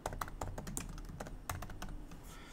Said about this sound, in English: we're going to type out Edison if I can type properly, Edison High School, all caps